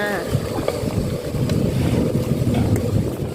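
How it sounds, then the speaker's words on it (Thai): Strong gusting wind roars across the microphone with a steady rush of rain or water beneath it, loud and close throughout. "ฟังเสียงลมเสียงฝนมาหรอ"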